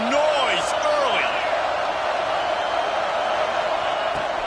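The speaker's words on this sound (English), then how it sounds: "This crowd bringing the energy and noise early." Football stadium crowd at a college game against ULM, a steady loud roar of many voices filling the whole stretch, with a few whistle-like or shouted calls rising above it early on.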